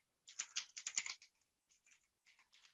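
Quick burst of typing on a computer keyboard entering a search command, a close flurry of light key clicks followed by a few sparser taps.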